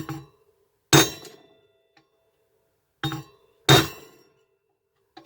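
A hammer strikes a large screwdriver set in a homemade bearing puller: four sharp metallic blows in two pairs, each a bright clink that rings briefly, with near silence between them.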